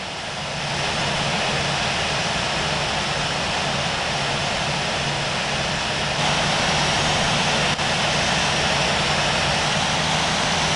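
A jet airliner taxis to the runway in the Infinite Flight game, its engines producing a steady, loud, even roar that holds for the whole stretch with no talk over it.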